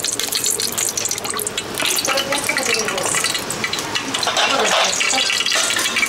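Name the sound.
pouring oil into clay-coated pot for tempering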